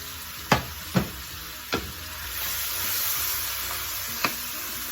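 Steady hiss of goat meat frying in hot oil for curry, with a few sharp clatters of stirring near the start and once more near the end.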